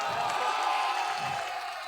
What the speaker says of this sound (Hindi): एक बार बिरादरम फैजी रहमान साहब और उनकी पूरी टीम के लिए पुरजोर तालियां बजा दें।